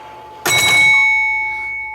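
Quick bells on a 1958 Genco Space Age pinball machine sound in a fast burst, a loud bright metallic clang whose tone rings on and slowly fades, close with no talking.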